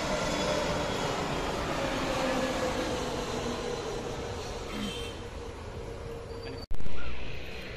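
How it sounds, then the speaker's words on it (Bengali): A continuous low rumble of a Boeing 757 cargo plane's engines on approach to land at Dhaka airport drones in the distance, fading slightly, then cut off abruptly by a sharp knock near the end. "এটি ওয়াইটিও কার্গো এয়ারলাইন্সের বোয়িং 757 মডেলের বড় বিমান।"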